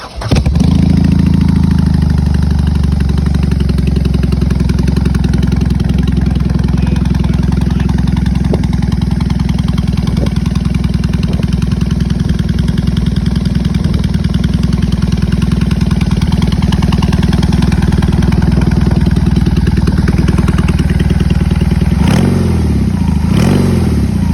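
A BMW R18 First Edition Bobber's 1800cc motorcycle engine fires up and settles into a loud, steady idle with a deep rumble, then revs briefly near the end.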